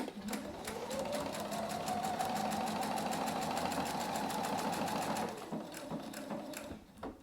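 Sewing machine stitching a quilted travel bag, a steady rapid needle chatter held for several seconds before slowing and stopping, close and fairly quiet, with no talk.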